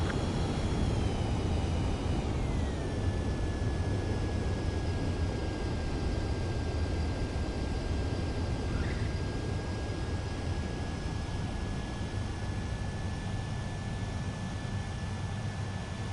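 A fighter jet lands in the Ace Combat 7 video game, its engine a steady, loud roar with broadband rushing noise and a tone that drops early, then holds. No one speaks.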